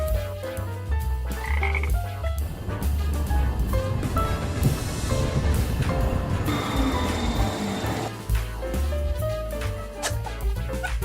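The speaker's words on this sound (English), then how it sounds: "F for frog." A frog croaks in repeated bursts over a busy backdrop of music and rumbling, the calls loud and rhythmic throughout.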